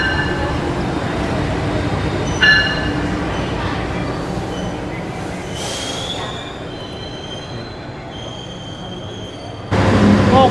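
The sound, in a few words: commuter train arriving at station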